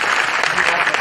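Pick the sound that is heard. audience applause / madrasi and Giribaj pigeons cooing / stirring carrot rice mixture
audience applause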